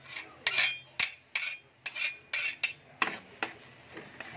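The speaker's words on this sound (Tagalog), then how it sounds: "Pwede na ilagay ang bawang mga sis." Garlic dropped into bubbling butter in a pan for butter garlic shrimp gives a series of about ten short sizzling bursts with utensil clinks at a steady rhythm, close and moderately quiet.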